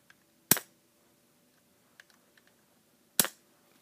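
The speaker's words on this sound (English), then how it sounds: "you got two spring-loaded launchers on the bottom." Two spring-loaded launchers on the underside of a LEGO Star Wars 70538 Jedi Interceptor fire as two sharp plastic snaps about three seconds apart, with a few faint clicks between them, no talking.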